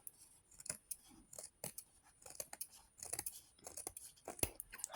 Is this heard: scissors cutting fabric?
yes